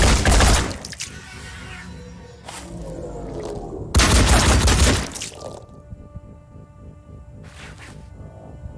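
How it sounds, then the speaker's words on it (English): Enemy return fire in the turn-based tactics game Phoenix Point arrives as loud, dense volleys in two long bursts, with a gap between them. Quieter mechanical hum and rattling trail after the second burst. "shoot the enemy and observe the return fire"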